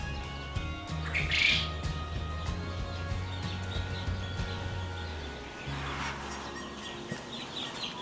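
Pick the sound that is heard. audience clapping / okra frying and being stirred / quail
quail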